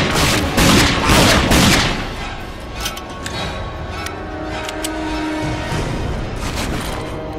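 Grenade blasts and rapid gunfire in the shooter RAGE, a loud burst of booms and shots at the start, then scattered sharp cracks and ticks over a lingering rumble.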